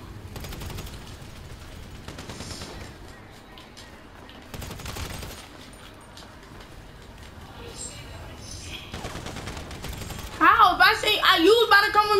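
Machine gun fire in a video game, bursts of rapid shots rattling through the scene at moderate loudness, with players chatting over the gunfire for most of it.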